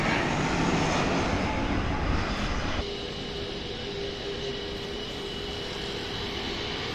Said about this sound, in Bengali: বিমানটি এখন ল্যান্ড করছে ইউএস বাংলা এয়ারলাইন্সের এজিয়ার মডেলের ছোট্ট বিমান